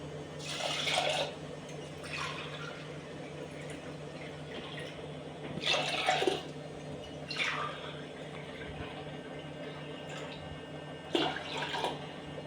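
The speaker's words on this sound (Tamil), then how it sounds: "இப்போ 1க்கு 1 டம்ளர் அரிசிக்கு 3 டம்ளர் தண்ணி ஊற்றிக்கலாம்." Water poured into a pot of washed rice and moong dal for ven pongal, coming in several separate splashing bursts with quieter gaps between them, close by and moderately loud.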